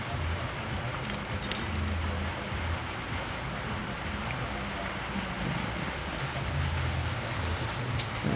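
Heavy rain pours at an airport, a steady, dense hiss of falling water mixed with low wind rumble, continuous throughout.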